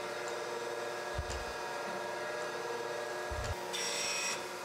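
A surface grinder takes passes across a steel belt grinder platen to flatten it, giving a steady mechanical hum with faint grinding hiss, two low thumps at table reversals and a brighter high whir near the end.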